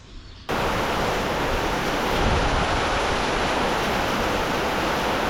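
Heavy stormy rain in Thailand roars as a dense, steady hiss, joined by a constant rush of water flowing down a flooded street, loud and unbroken after a brief quieter start.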